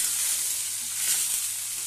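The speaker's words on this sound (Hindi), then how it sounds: "प्याज हमारा भून गया है।" Onions fried with spices for an arbi curry, a steady close hiss of sizzling oil with a faint scrape of stirring, no voices.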